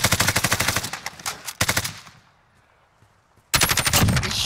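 Rapid automatic gunfire in the Warzone video game, loud close bursts of fast regular shots, a pause with a fading tail, then another sustained burst.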